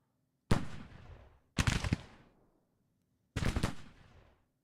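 Cavalry and infantry in a skirmish exchange gunfire in the Civil War game Grand Tactician, three distinct volleys of crackling musketry, each a sharp cluster of shots with a rolling decay, separated by short silences.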